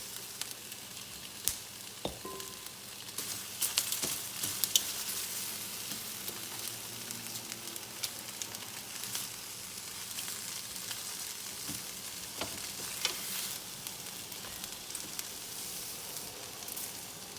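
Onions and garlic roast on a griddle for a tomato and chili salsa, giving a faint, steady sizzle scattered with small pops and occasional scrapes, with no voices.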